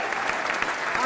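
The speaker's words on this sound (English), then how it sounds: "Let's give her a round of applause." Brief, dense applause from a luncheon crowd at a civic event in Buffalo, with many hands clapping steadily and fairly loudly for about a second.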